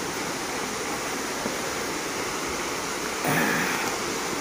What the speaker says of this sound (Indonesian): Air terjun Irenggolo, teksturnya air terjunnya seperti terasiring.